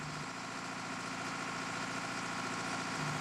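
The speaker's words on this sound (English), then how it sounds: "make sure the Jarraff idle is at 2000 RPM for the Cummins machine and 2300 RPM for the Deutz machine" A Jarraff tree trimmer's diesel engine, a Cummins or Deutz machine, idles at a steady 2000 to 2300 RPM, with a constant close rumble and faint vibration throughout and no talking.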